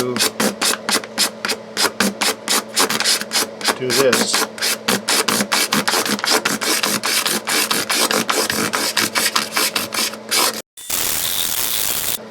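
Rapid, rhythmic rasping of 1200-grit sandpaper on a sanding sponge rubbed back and forth over the frets of an acoustic guitar, steady strokes close up, with a brief voice and a short hiss near the end.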